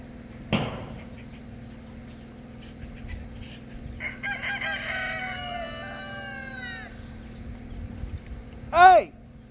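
Roosters crowing on a homestead where rare birds are kept, with a long drawn-out crow in the middle and a shorter, louder one near the end. A brief shout and some voices come in and out.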